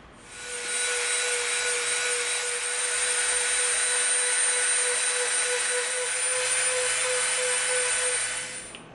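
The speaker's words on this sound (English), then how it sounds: "We dremeled from here to the peak and then from the peak back down to here." A Dremel rotary tool grinds a bevel along the edge of EVA foam, a steady high-pitched whine with a sustained tone, running close and continuous for about eight seconds with no talking.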